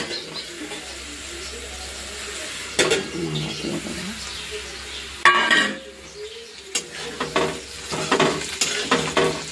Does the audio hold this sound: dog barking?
no